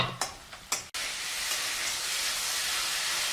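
Spices and boiled chickpeas hit a hot pan for iftar frying: a couple of sharp clatters, then a loud, steady sizzle and hiss that runs on continuously, with no voices.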